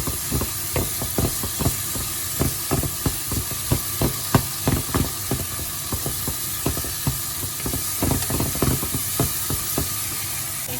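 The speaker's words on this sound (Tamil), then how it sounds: "தக்காளி நல்லா பொரிஞ்சு அவியணும்" Chopped tomatoes sizzle and crackle in hot oil for a Sri Lankan chicken devilled dish, a steady close frying hiss broken by frequent sharp pops and spits, with no talking.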